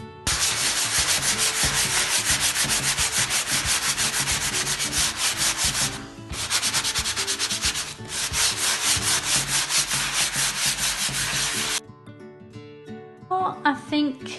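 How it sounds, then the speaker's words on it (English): Sandpaper is rubbed lightly over dried napkin decoupage to distress it, giving steady, close raspy strokes for about twelve seconds with one brief pause, then a few faint knocks. "Now I'm just gonna go back and lightly kind of sand over it and distress it."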